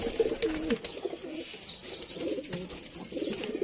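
Pigeons coo in soft, repeated throaty bursts, close but faint, with light rustling and background noise between calls.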